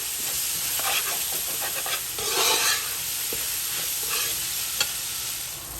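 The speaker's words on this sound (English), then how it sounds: "So I'm gonna start fry this up for a few minutes, about 3 to 4 minutes here." Lamb biryani ingredients fry in a hot pan with a steady hissing sizzle, broken by bursts of louder spitting and a few sharp utensil taps, heard up close.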